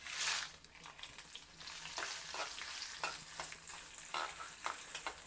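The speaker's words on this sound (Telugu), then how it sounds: "ఇప్పుడు మనం ఎండుమిరపకాయలు కూడా వేసేద్దాము." Mustard seeds, fenugreek and dry red chillies, including Byadagi chillies, fry in hot oil for a mango pickle tempering, giving a steady close sizzle with frequent crackling pops and stirring throughout.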